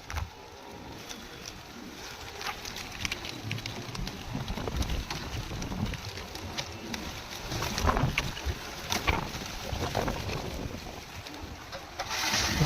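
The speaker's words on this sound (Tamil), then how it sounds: "ஸோ 25 செகண்ட் கழிச்சு மோட்டர் ஆன் ஆகும்." A borewell water pump motor hums steadily while water gushes and splashes into a tank, a continuous rushing wash of noise with no talking.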